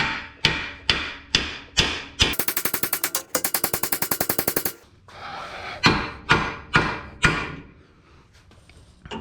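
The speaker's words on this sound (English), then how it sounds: "So I hit the side of the knuckle and then I hit the flat spot on the bottom of this tie rod." A 2009–2013 Ford F150 tie rod is hammered out of the steering knuckle, with loud, sharp metallic blows at a steady pace. A rapid rattling burst of strikes comes midway, then more single hits.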